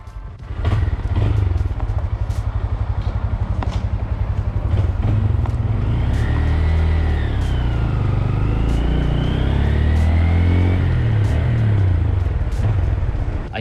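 A 2022 Honda Grom, a light 230-pound motorcycle, rides by with a steady loud engine rumble and dense low throb throughout, with rising and falling revs in the middle and scattered clatter.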